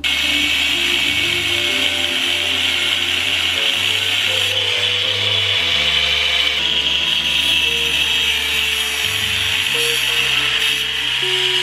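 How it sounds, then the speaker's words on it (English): A grinder cuts into the K-member subframe of a Foxbody car, giving a loud, steady, unbroken grinding whine with a bright high edge that holds for the whole stretch without a pause. "So time to go ahead and take the grinder to that right there and get this K-member dropped out."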